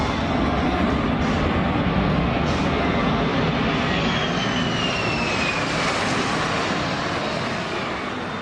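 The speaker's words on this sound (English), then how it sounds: "This Australian Air Force C-17 is flying dangerously close between buildings in Brisbane." An Australian Air Force C-17 transport jet flying low between city buildings in Brisbane, a continuous, loud, close engine roar with a rising whine, heard alone without voices.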